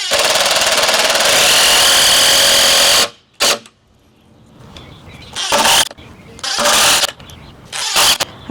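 Power drill driving 3-inch screws into boards for a bee bench, a loud continuous whir for about three seconds, then shorter bursts of drilling separated by quiet gaps and brief handling noise.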